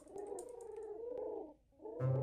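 Pigeons coo in a pigeon game, soft rolling warbles repeating steadily close by, with a brief quieter gap before a brighter burst of bird sound at the end.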